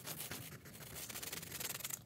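Willow charcoal scrapes across abrasive canvas in quick, close strokes, a steady gritty rubbing that rises into a faster rhythmic scratching near the end.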